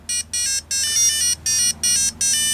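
Beeping tones from a Real Ghostbusters Ghost Blaster LCD handheld game after start is pressed, a rapid series of loud electronic bursts in a steady on-off rhythm.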